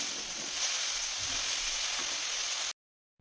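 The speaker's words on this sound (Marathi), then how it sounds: "त्यामध्ये थोडंसं तूप टाकायचं आणि नंतर किस टाकायचा आणि तो छान परतून घ्यायचा." Grated carrot sautéing in ghee over a very low flame for carrot halwa, giving a soft, even sizzle at close range that cuts off abruptly near the end, followed by near silence.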